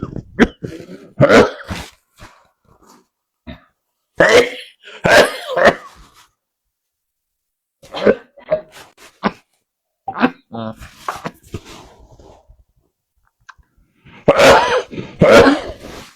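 Several sharp, harsh coughs come in clusters separated by silent pauses, close to the microphone.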